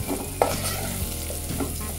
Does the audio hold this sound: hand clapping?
no